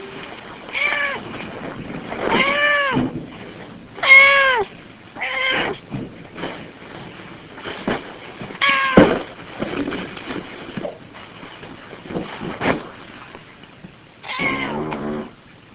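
A cat meows and caterwauls repeatedly and up close. The drawn-out, wavering cries come at irregular intervals, with quieter breathy noises between them.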